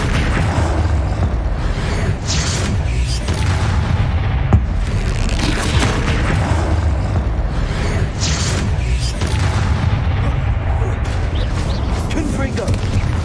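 Explosive Confringo spell blasts go off in Hogwarts Legacy combat, loud booming bursts recurring over a dense, constant din of game effects and clashing action.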